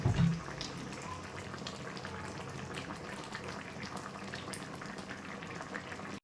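Drumstick (sajne data) vegetable curry simmering in a pot of water, a steady soft bubbling and gurgling that stays even and low throughout, with a brief clunk at the start.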